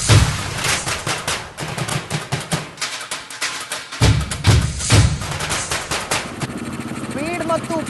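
A modified 1996 Bullet motorcycle engine thumps in rapid, rhythmic bursts while riding, loud and close, with some rushing wind and a voice heard near the end.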